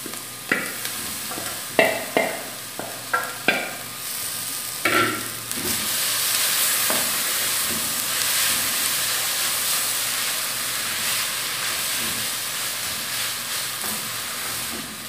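Chicken breast goes into a pan of softened, sautéed onion for a chicken escondidinho: a few sharp clatters and stirring knocks, then a steady, loud sizzle and hiss of frying that holds to the end, with no talking.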